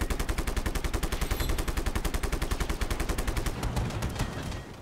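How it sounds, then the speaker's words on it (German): A tank blowing up in the Just Cause 3 video game, heard as a long, loud, steady volley of rapid explosive blasts at an even rhythm that fades slightly at the end. "Ganz abgesehen davon geht mein Panzer jetzt hier in die Luft."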